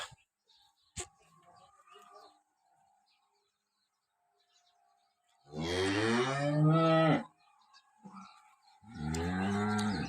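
Two long, loud moos from pregnant dairy cows close by, separated by a short pause, over a quiet farmyard background near Rah village, Tharad, Banaskantha, Gujarat, with a sharp click near the start.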